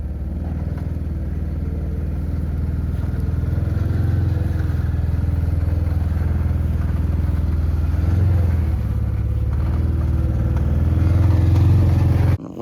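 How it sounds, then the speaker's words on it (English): Steady low mechanical drone with rattling clatter, consistent with a motorized winch hauling a giant pumpkin up over a hump, loud and continuous throughout, cutting off abruptly at the end. "Winch it all the way up over that hump"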